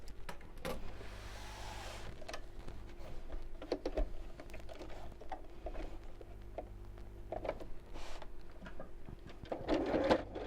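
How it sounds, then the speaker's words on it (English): A domestic sewing machine top stitches around the top of a quilted scissor keeper, a close, quiet motor whir with rapid needle chatter running nearly throughout, punctuated by a few small clicks and handling sounds. "Now I'm just going to top stitch around the top here to make it neat."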